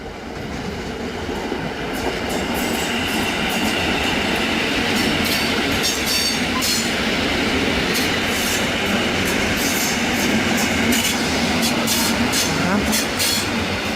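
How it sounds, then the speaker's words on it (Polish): A train rumbles past nearby on active tracks at an abandoned station in Tczew, Poland, a steady broadband roar with repeated clicking of wheels over rail joints throughout. "jedzie pociąg, ale to nic."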